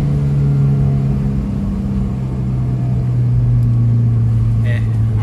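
Suzuki Baleno car running on LPG, engine held at steady raised RPM during a test, a loud continuous close drone with a slight rise, people talking over it.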